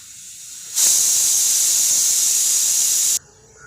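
A kitchen pressure cooker holding rice porridge lets off steam in a loud, steady hiss that starts abruptly, holds for about two and a half seconds, then cuts off sharply, leaving a quieter room tone.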